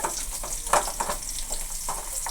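Garlic and green chillies fry in hot oil for a kirkasali greens stir-fry, making a close, steady crackling sizzle broken by stirring scrapes; no voices.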